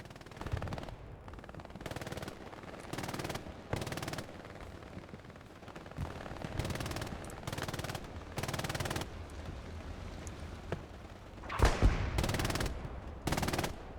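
Machine-gun and rifle fire from Hell Let Loose on the Hurtgen Forest map, heard from a tank: repeated bursts of automatic fire, each lasting about a second, with short gaps and a louder cluster near the end.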